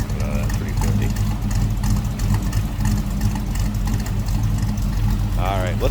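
A 1941 Chevrolet Super Deluxe Coupe street rod with a 350 V8 idles through a mild exhaust, giving a steady, close, low rumble under continuous nearby talk.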